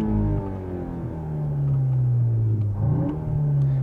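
A 2021 VW Arteon R Shooting Brake with a 320 hp engine revs up, its steady mid-pitched drone climbing and briefly dipping before rising again, close and fairly quiet.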